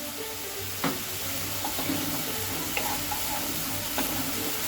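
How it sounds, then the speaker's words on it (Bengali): Onion paste sizzles in a pan with ginger, garlic and green chili paste added, a steady crackling fry with a few soft clinks of stirring. "পেঁয়াজ আমার ভাজা ভাজা হয়ে এসেছে। এরপর আমি আদা রসুন এবং লঙ্কার পেস্ট, কাঁচা লঙ্কার পেস্ট আমি 2 চামচ অ্যাড করলাম।"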